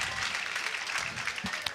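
Crowd applause at the 2023 US Open Pickleball Championships, a steady wash of clapping from spectators that holds evenly across the moment, with a few louder claps standing out near the end.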